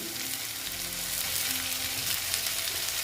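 Potatoes fry in a pan for an egg curry, giving a steady, dense sizzle close at hand with occasional stirring movements underneath, and no talking.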